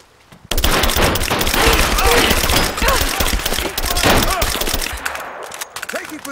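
Rapid gunfire bursts from the Rise of the Tomb Raider video game, loud and dense across most of the span, with shouted game voices mixed in.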